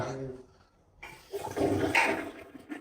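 A toilet flushes with a loud rush of water that swells and churns for a couple of seconds after a brief quiet start.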